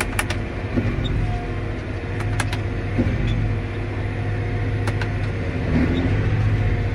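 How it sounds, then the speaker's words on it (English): A John Deere 8330 tractor shifts down from fifth to fourth gear, its engine holding a steady loud drone in the cab, with faint clunks and clicks from the transmission and no talking. "Let's bump her down here a couple gears."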